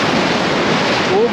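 Ocean waves crashing at Puri Golden Beach, a continuous loud roar of surf with wind noise on the microphone, filling the scene without a break.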